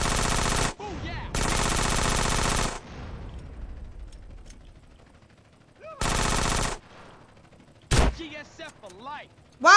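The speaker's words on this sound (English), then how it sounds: "the shotgun can hit from here. Damn, it's a pretty good shotgun." Shotgun blasts in Grand Theft Auto: San Andreas, several loud sustained bursts of gunfire separated by quieter gaps, with in-game voices speaking between the shots.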